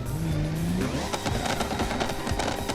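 A Stirling S6 race car in BeamNG accelerates at full throttle. The engine note climbs steadily and loudly with a slight tire chirp, close and sustained with no talking.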